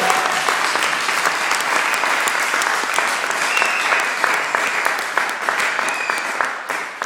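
A church congregation claps and cheers in praise during a French-language sermon, a dense, steady wall of applause that holds strong throughout and thins slightly near the end.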